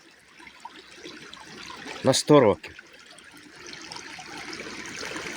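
A small forest stream trickles and burbles steadily nearby, with a voice speaking briefly over it midway.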